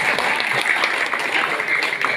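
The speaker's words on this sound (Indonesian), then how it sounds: "Mohon tepuk tangan" A hall audience at a village head's inauguration gathering in Bantul breaks into dense, even clapping that runs steadily throughout, with a faint murmur of voices beneath.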